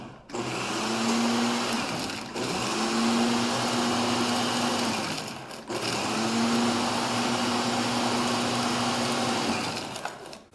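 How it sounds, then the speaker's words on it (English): A food processor pulses flour and kosher salt for scones in three long bursts, each a loud motor whir separated by brief stops. "I'm going to pulse this a few times to get it mixed up"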